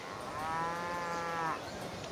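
A single drawn-out cow moo from a Civilization V game, clear and steady for about a second over a quiet background, ending with a faint click.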